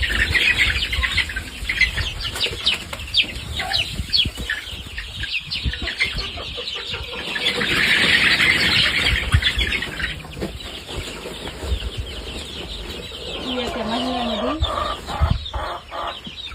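A flock of chickens cluck and call steadily at close range, the sounds overlapping throughout with no talking.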